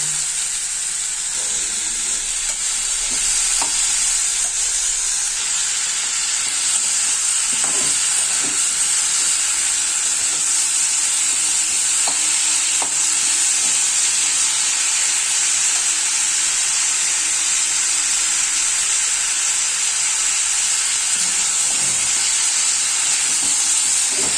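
Food sizzles steadily in a hot pan, a continuous bright hiss with occasional soft clinks of stirring, close and fairly loud, with no talking.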